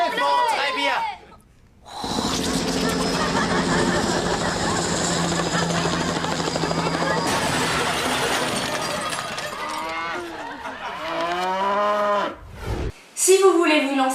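A voice mimics a helicopter crashing into a herd of cows, with whirring chopping noises, a burst of crash-like roaring, then drawn-out moo-like bellows, interrupted by brief pauses.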